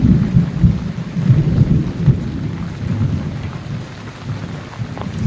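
Steady heavy monsoon rain with low rumbling thunder rolling through, continuous and fairly loud, no voices, in Valsad, Gujarat.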